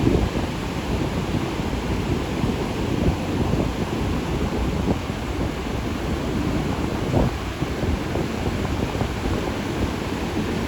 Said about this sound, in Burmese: လိုင်းတွေကတော့တော်တော်ကြီးနေတယ်နော်။